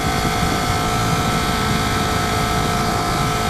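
A Ducati 848 Streetfighter L-twin motorcycle engine drones steadily while riding, with a constant loud hum blended with wind rush and no speech.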